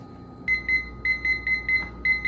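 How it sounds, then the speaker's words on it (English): A kitchen timer goes off while beer brews at home, sounding a loud, close run of quick, high, regular beeps in evenly spaced bursts. Nothing else is heard. "All right, our timers went off."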